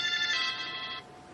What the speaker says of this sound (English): that's my phone now, catching up on all of the Wi-Fi stuff.